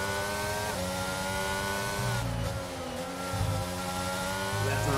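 Formula 1 cars in a racing video game set at China's circuit scream as they accelerate out of the final corner, a loud continuous high-pitched engine wail that rises in pitch with several cars overlapping close by.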